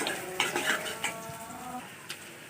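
Whole spices, bay leaves, cinnamon pieces, cardamom pods, cloves and peppercorns, fry together in oil in a pan for a chicken curry, giving a soft steady sizzle broken by a few light clinks and scrapes of a utensil, with no talking.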